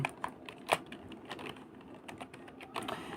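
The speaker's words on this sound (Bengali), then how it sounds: "আমরা এখানে দোকান এটা লিখবো" Keys tapped on a computer keyboard, typing a search word into a WordPress plugin field, in a quick irregular run of soft clicks with a few sharper strokes, close and fairly quiet.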